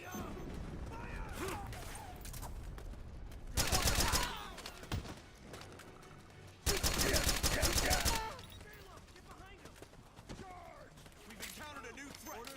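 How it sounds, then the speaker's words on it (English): Gunfire in Metal Gear Solid 4, with two loud sustained bursts of rapid automatic fire separated by quieter stretches. Voices shout commands and chatter between the bursts. "Suppressing fire! That's the enemy! Back me up! Fire!"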